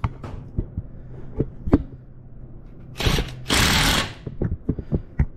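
Tightening a bolt with a T47 Torx bit while installing an SBC engine guard on a 2020 Harley-Davidson Lowrider S. Close, sharp ratcheting clicks come in a loose rhythm, with two longer, louder mechanical bursts midway.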